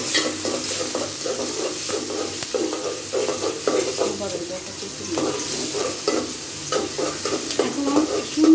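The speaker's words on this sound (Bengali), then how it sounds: "এখন সুন্দর করে আমি পেঁয়াজ কাঁচামরিচ বাদামি কালার করব।" Chopped onion and green chili frying in a pan, a loud continuous sizzle with regular scraping and stirring strokes throughout and a faint voice in the background.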